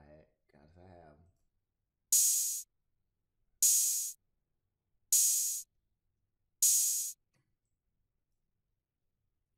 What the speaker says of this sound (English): Open hi-hat, gotta have them.